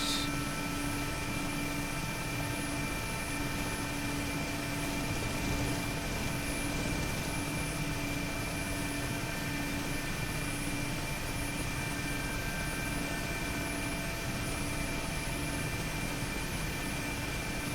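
An Mi-8MTV2 helicopter in the DCS flight simulation game flies with a constant, loud turbine whine and dense rotor roar, steady and unbroken for the whole stretch with no voices.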